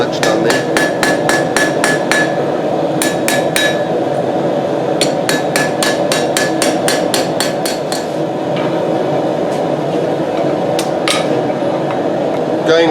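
A hammer forges a knife blade with rapid, loud metallic strikes in quick bursts and short pauses, over a steady background roar of the forge.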